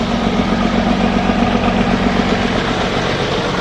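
A Jetbus HD3-bodied bus with a 1521 intercooler engine idles at a terminal, giving a steady, loud low rumble that holds unchanged throughout with no voices.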